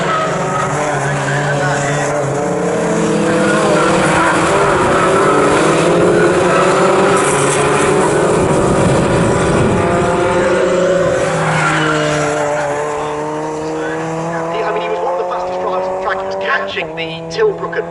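Fun Cup race cars at Snetterton circuit drone steadily past with sustained engine noise that swells and shifts pitch, under continuous talk from race commentators.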